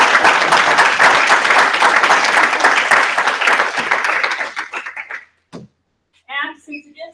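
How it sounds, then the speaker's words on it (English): A lecture-hall audience applauding the teaching assistants on the final day of class, dense steady clapping that thins out and stops after about five seconds, followed by a lone voice speaking. "So I think a big round of applause is."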